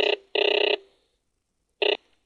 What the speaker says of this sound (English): That way you'll hear the phone ring if another call comes through.